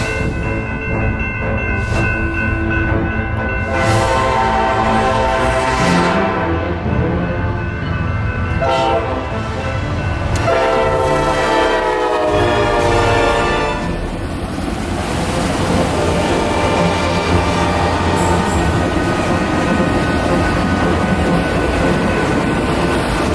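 A Kansas City Southern GE locomotive leads a train past at night in Crowley, Texas, with autorack cars following; loud, sustained horn blasts ring out over a heavy, continuous rolling rumble close by.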